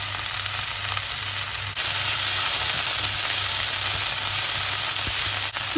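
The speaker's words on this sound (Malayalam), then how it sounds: "അതിലേക്ക് ഇട്ട് കൊടുത്ത് നന്നായിട്ട് വറുത്തെടുക്കണം." Chopped coriander and mint leaves crackle and sizzle steadily in hot oil for a pickle, a loud continuous frying hiss with faint occasional stirring, no voices.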